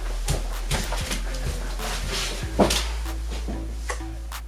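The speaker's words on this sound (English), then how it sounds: "My cat's knocking." Cat knocking at a door indoors, a series of soft wooden thumps and taps spread across a low steady hum, close by and moderately loud.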